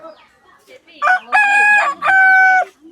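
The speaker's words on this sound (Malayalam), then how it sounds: "ഇതെല്ലാം നാടൻ കോഴികൾ" Country chickens at a Meghalaya market: a nearby rooster gives two loud, drawn-out crows in quick succession after a few soft clucks, close and clear with little else around.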